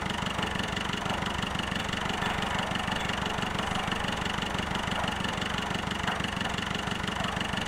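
Tractor engine in the video game Farming Simulator 2011 pulling a cultivator, a steady low droning rumble with even mechanical pulsing, loud and continuous throughout without talk.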